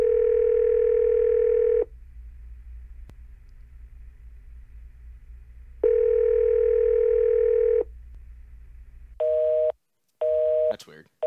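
Repeated telephone ringing tone, long steady electronic tones separated by silence, followed by a few shorter beeps near the end, with faint background hum.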